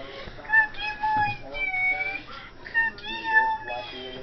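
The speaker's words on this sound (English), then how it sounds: "This is the rescuing kitty, people." A rescued kitten named Cookie meows repeatedly in short, rising and falling cries, close and fairly loud, with little pause between calls.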